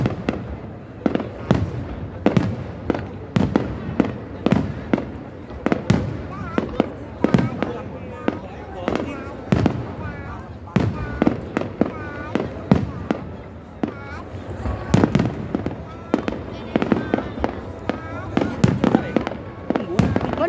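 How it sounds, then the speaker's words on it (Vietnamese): New Year fireworks burst in a steady stream of sharp bangs and crackles, some near and loud, some fainter, with people talking and exclaiming between the explosions. "Đấy, nhìn thấy pháo hoa chưa?"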